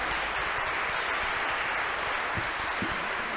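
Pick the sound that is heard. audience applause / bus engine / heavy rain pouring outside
audience applause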